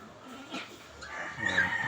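A hen clucks softly a few times nearby, short throaty calls rising over quiet background noise.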